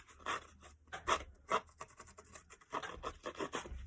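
A small bladed craft tool cuts through card in short scratchy strokes, several quick rasping passes with brief pauses, close and quiet.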